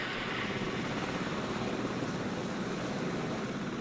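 A rescue helicopter with 9-metre rotor blades hovers over very rough terrain during a winch recovery, its steady, loud rotor roar and engine drone filling the scene without a break.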